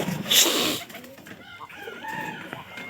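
Backyard egg-laying chickens give a loud, sharp call up close, followed by softer clucks and chirps nearby.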